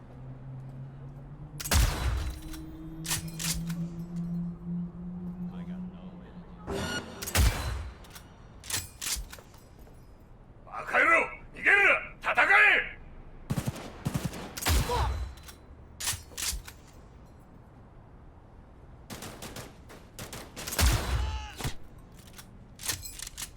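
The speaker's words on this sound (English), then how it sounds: "The Overwatch is a big-ass sniper rifle that is viscerally fun to fire." Several heavy Overwatch sniper rifle shots in Cyberpunk 2077 boom out one at a time, each a sharp crack with a decaying tail, separated by quiet pauses, with a brief burst of rapid mechanical clicks in between.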